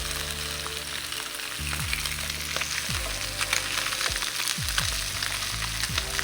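Small fish fillets for fish tacos frying in a pan, a steady loud crackling sizzle that runs the whole way through with a few low thumps and no speech.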